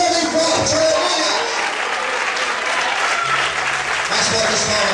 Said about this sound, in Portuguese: aplauda o Senhor bem forte